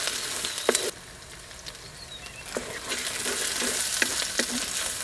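Green chillies and turmeric being stirred in a hot frying pan, a steady sizzle with repeated scraping strokes of a spoon against the pan, close and clear with no voices.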